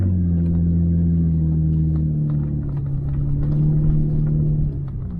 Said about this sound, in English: Now that's sand dune driving.